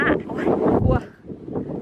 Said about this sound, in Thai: ลมแรงมาก เดี๋ยวลม เดี๋ยวฝน หน้าหนาวเป็นอย่างเงี้ยอู้ลมมามันเสียงจะเข้าเนาะ